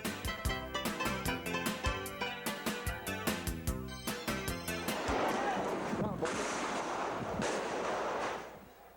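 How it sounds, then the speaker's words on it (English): Rapid rhythmic bursts of gunfire crack in a fast repeating pattern, then give way to a rumbling wash of artillery blasts and noise that fades out at the end, all heard as a wartime sound effect in a radio program. "We hear the guns"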